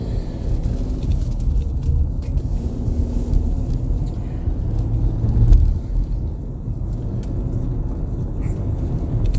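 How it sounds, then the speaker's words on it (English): Steady interior road noise from a car driving along, a continuous low rumble and tire hum with a brief swell midway and no clear talking. "As I'm doing this, I'm driving"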